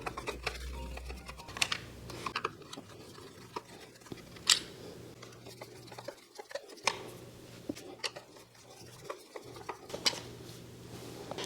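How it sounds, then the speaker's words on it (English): Small #1 Phillips screws are backed out of a Dyson Ball Total Clean vacuum brush head. Faint close clicks and scratchy turning noises come intermittently, with occasional sharper ticks of the screwdriver. "So let's just take these screws out."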